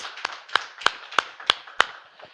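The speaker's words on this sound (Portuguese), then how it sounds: "Uma salva de palmas ao Senhor Jesus" Rhythmic clapping during a church worship service, with six or so evenly spaced sharp claps, moderately faint and heard alone with no voices.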